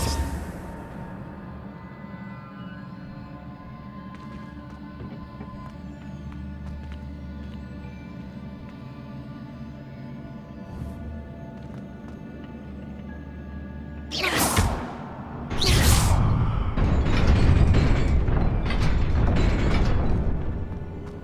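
An Incendio fire spell cast in Hogwarts Legacy bursts out abruptly over a steady hum of background game ambience, then settles into a loud, roaring crackle of flame that holds for several seconds.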